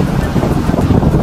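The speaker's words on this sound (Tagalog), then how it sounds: "kalalami ang hangin" Seaside wind buffets the microphone at a beach campsite, a loud, low, rumbling roar that surges and dips without pause and with no voices over it.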